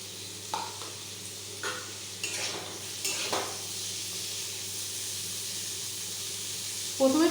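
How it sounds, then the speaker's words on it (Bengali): Chopped onions and spring onions fry in a hot pan with a steady sizzle and hiss. A few stirring scrapes and clinks sound over the even frying noise, close by, with no talk. "কুচনো পেঁয়াজ ও এই পেঁয়াজ পাতাগুলো সব একসঙ্গে ভেজে নেব।"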